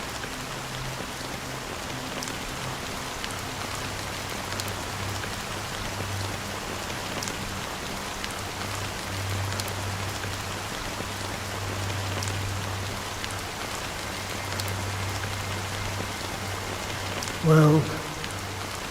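Steady rain falls in a game scene as a soft, continuous hiss of drops that holds evenly throughout, with a faint low hum and a brief tonal sound near the end.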